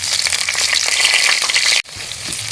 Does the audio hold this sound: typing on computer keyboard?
no